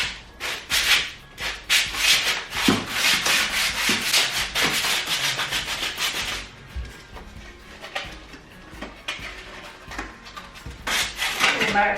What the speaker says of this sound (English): I have to get the electric sander out.